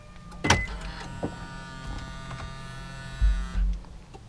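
A car locks with a thunk, followed by a steady electric motor whir of automatic folding mirrors folding, ending with soft clunks.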